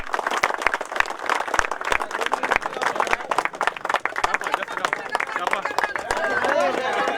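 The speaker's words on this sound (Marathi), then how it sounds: "टाळ्या वाजवा सर्वांनी." Former students and guests at a school reunion get-together clap together in a dense, continuous round of applause mixed with crowd chatter and background voices, lively and close throughout.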